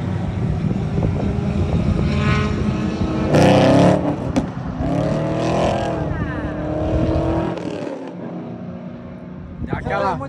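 Street cars race around a track, among them a naturally aspirated Camaro, a turbocharged SE with a front intercooler, a Corsa and a Gol. Loud engines roar and surge in passing bursts, with wind buffeting and people talking over them throughout.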